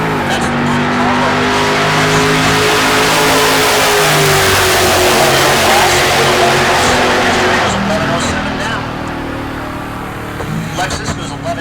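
A Lexus and a Monte Carlo launch side by side at Heartland Park Topeka, engines screaming loud and continuous through the pass before fading toward the end, with a burst of crowd noise.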